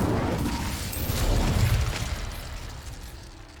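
An Incendio fire spell is cast in Hogwarts Legacy, a sudden whooshing burst of flame with a deep rumbling boom that swells, then fades over a few seconds.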